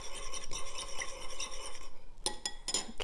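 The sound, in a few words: mixing Szechuan cold noodles with sauce in bowl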